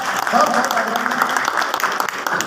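Crowd applause welcoming a district president at a BJP rally in Bhadra, a steady burst of many people clapping with voices mingled in throughout.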